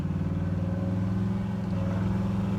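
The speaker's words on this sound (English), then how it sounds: "Listen to that exhaust." A 1967 Chevrolet Impala with a big block V8 idles with a deep, steady exhaust rumble, low and throbbing with an even pulse, close and alone without talk.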